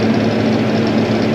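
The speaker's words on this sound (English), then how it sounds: "this tractor's a bit louder." Close, steady rumble of a tractor engine running while digging dirt, a dense low throb with no talking over it.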